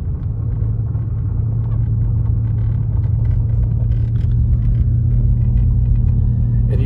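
A car on snow tires drives along an icy, snow-covered mountain road in the Big Bear Valley, California, giving a loud, steady tire rumble and low engine drone throughout with no talking.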